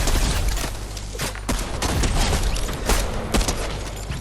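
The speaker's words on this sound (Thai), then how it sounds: "เสียงเสียงยิงนะ" Fortnite gunfire comes in a dense run of repeated loud shots, crackling bursts with several sharper reports spaced through the stretch, close and prominent with no talk over it.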